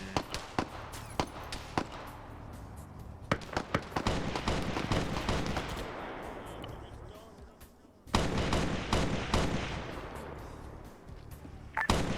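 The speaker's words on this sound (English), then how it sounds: "they're firing the AA missiles in" Anti-aircraft missiles firing in a military shooter game, heard as a string of sharp launch cracks and booms, some in quick bursts, with dense rumbling roars swelling between them, loud throughout.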